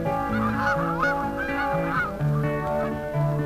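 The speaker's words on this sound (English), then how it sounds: "For some migrators, like these geese, the approaching winter means they will fly south" Several migrating geese honk repeatedly in a loud, rhythmic chorus of nasal calls, close by and without any talking.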